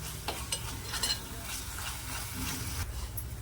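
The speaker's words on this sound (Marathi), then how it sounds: "मिक्स मसाला घालूया मिक्स करून घेऊया हा मसाला चांगला आपल्याला परतून घ्यायचं आहे" Homemade mixed masala is stirred and sautéed in a pan for Mumbai-style egg bhurji: a soft continuous sizzle with a few light utensil scrapes, quiet and close, without talking.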